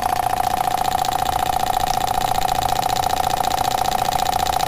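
A Jensen 25 model steam engine idles steadily with a constant, even mechanical hum and a fine rapid beat, close and loud, with no talking over it.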